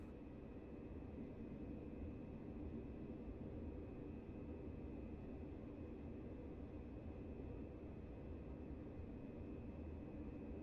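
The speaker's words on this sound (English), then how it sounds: "Silk Air Jet is taking off." Silk Air jet airliner in the Prepar3D flight simulator game taking off, a steady low engine roar and broad rumbling hiss, even and unbroken throughout.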